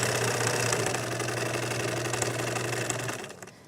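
A sewing machine set to a longer stitch length hums steadily at a constant speed with an even low drone, close and uninterrupted, then winds down and stops in the final half second.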